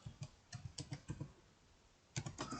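Fingers type on a computer keyboard in quick clusters of soft clicks, pausing for about a second before a final burst, close and quiet with no talk.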